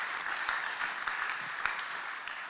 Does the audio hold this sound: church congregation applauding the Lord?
yes